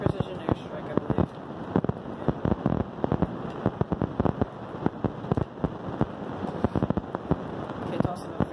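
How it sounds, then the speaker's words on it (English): A precision airstrike in Call of Duty Modern Warfare sets off a dense run of crackling blasts and pops that crowd together like rapid fireworks, moderately loud, while players talk over it. "Precision airstrike,"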